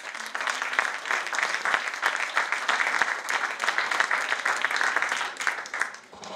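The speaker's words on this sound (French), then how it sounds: "on va lui donner une bonne main d'applaudissement." An audience at a rally event in Charlevoix gives a sustained round of applause, thick and steady for about six seconds, fading slightly at the end.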